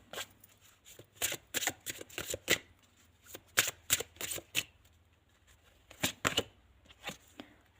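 A deck of tarot cards is shuffled in repeated quick riffling bursts, crisp and close, with short pauses between the shuffles.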